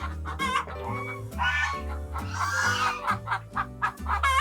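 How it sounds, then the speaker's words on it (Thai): Laying hens on an organic farm clucking in a busy, overlapping chorus, close and fairly loud, with a rhythmic run of cackling calls. "ไก่ไข่อารมณ์ดีนะครับ"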